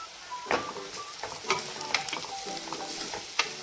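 A frying spice paste for dal bati is stirred after coriander powder and red chili go in, producing a faint, steady sizzle broken by irregular scraping strokes of a spoon against the pan.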